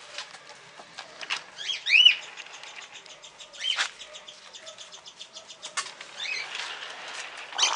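Birds flutter and flap their wings in quick, irregular bursts nearby, with chirps and squeaky calls mixed in throughout.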